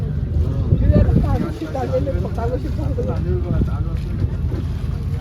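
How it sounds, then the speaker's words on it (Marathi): A small boat slowing on the sea as a cargo ship passes ahead, with a steady engine rumble and rushing wind and water noise close to the microphone while people talk over it. "आपली बोट थोडी स्लो घेतली आहे बिकॉज तिकडून समोरून एक कार्गो शिप जात आहे"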